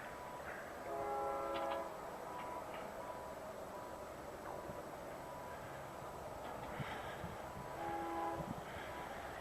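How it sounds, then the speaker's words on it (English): A freight train rumbles past at a distance over a new bridge, its horn sounding in several sustained blasts over the steady rolling of the cars. "We'll see if the bridge holds the weight of the freight train."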